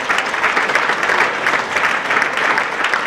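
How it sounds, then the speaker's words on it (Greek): Warm, dense applause from an audience at a signing ceremony, steady and loud throughout without a break. "Ένα θερμό χειροκρότημα."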